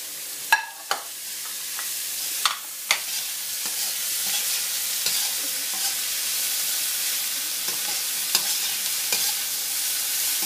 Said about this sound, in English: We have to fry them little bit so that the crunchiness of the vegetable retain.